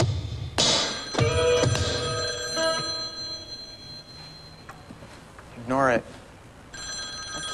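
A telephone rings in bursts of bright trilling tones, close and moderately loud, with gaps between rings and faint room sound around them.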